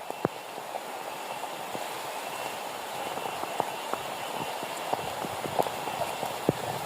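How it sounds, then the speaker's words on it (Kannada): Heavy rain falling around a house during a trekking trip, a steady soft hiss with scattered sharp drips and taps landing irregularly nearby. "ತುಂಬ ಮಳೆ ಇದೆ"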